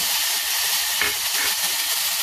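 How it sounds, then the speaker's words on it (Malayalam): Carrot tipped into caramelized melted sugar in a pan for carrot palada payasam, giving a steady loud steamy hiss and sizzle with a brief burst around the addition, no voices. "ഞാൻ ഇതിലേക്ക് കാരമലൈസ് ആയി കിട്ടിയതിലേക്ക് ക്യാരറ്റ് ചേർത്ത് കൊടുത്തേക്കുവാണേ"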